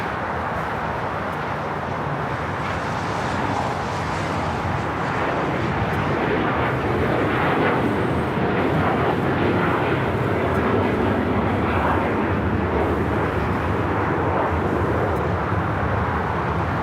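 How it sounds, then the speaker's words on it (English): Turkish Airlines Boeing 787-9 Dreamliner taking off from runway 25 right at Los Angeles airport, a loud, sustained jet engine roar that stays steady and broad for the whole stretch. "The 787-9 Dreamliner now taking off 25 right."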